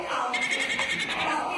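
A goat bleats loudly and close by in one sustained, wavering cry that fills the moment, with a person's voice also audible.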